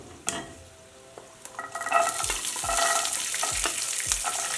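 Cashews, green peas and curry leaves fry in hot oil in a pan, a sizzle that swells loudly as ingredients go in, with a spoon stirring and scraping in repeated strokes close by.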